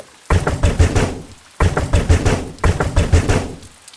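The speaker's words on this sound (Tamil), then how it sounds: "யார் இந்நேரத்துல கதவை தட்டுறான்னு தெரியலையே." Knocking on a door late at night during rain, heard as three loud bursts of rapid, rhythmic raps with short pauses between them, up close and with no voices over them.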